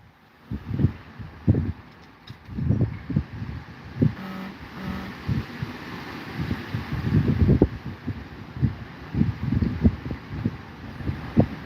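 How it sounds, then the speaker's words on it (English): Wind blowing outdoors in a small Tennessee town, heard as gusty buffeting thumps and rumbles against the microphone in uneven bursts over a faint hiss, with no speech. "That wind's blowing."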